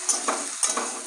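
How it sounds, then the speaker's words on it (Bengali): Potatoes, onions and tomatoes fry in a pan with a steady, soft sizzle, broken by two quick stirring scrapes. "আলু পেঁয়াজ টমেটো ভালো করে ভেজে নিয়েছি"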